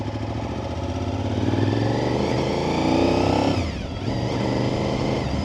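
A 2002 Honda VTR SP2 RC51 V-twin superbike being ridden on a short road, its engine loud and close, revving up through rising pitch, easing briefly, then pulling again.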